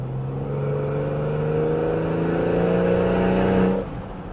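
A turbocharged Ford Barra car engine drones steadily and slowly rises in pitch as it accelerates, then drops off sharply near the end.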